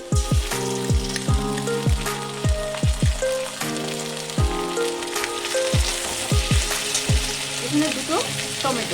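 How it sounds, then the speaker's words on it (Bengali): Spices with turmeric, dried chilli powder, ginger paste and tomato frying in a pan, a loud continuous sizzle broken by repeated metallic clinks and taps of a spatula against the pan, close up with no talk. "মশলাগুলো ভালো করে কষানো হয়ে গেছে"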